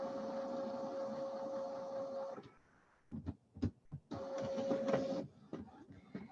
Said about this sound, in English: you just click print. Okay, and it's going to send it to the machine.